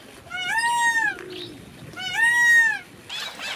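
A peacock gives two loud, drawn-out wailing calls close by, each a rising and falling cry with a strong harmonic stack, followed by a short noisy squawk at the end.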